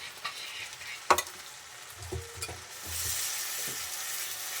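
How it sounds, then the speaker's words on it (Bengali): Spice paste with ground tomato fried and stirred in a pan for egg curry: a quiet steady sizzle broken by scraping stirs and a few sharp clinks, growing slightly louder toward the end. "এবার মশলাটাকে আমি ভালো করে ভাজবো।"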